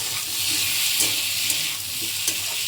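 Shrimp and pumpkin curry cooks in a pan with a steady, loud sizzle and a few soft stirring knocks, close by and with no voices.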